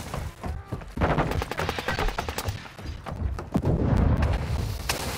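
Dense gunfire in Call of Duty Modern Warfare: rapid automatic bursts with sharp cracks and heavy thumps, loud and continuous across the whole stretch, building to a thicker barrage near the end.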